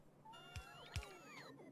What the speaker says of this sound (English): Why is my Dolly meowing at me?